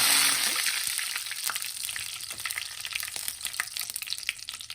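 Curry leaves dropped into hot oil for a garlic pickle tempering burst into a loud hiss, then settle into fainter, scattered crackles and pops, close up, with no voices.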